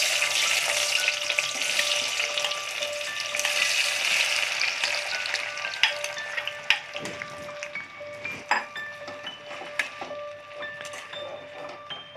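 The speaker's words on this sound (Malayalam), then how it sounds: "എണ്ണ നല്ലോണം ചൂടായിട്ടുണ്ട്. ഇനി ഈ പഴത്തേക്ക് തക്കാളി ഇട്ട് കൊടുക്കാം." Tomatoes fry in hot oil in a pan over medium flame, hissing steadily and strongly at first, then settling as sharp clinks and scrapes of stirring break in.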